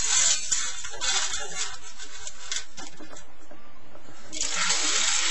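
Red kidney beans being rinsed under a running tap, a steady wash of splashing water that holds for most of the few seconds and thins briefly before gushing again, with no talking.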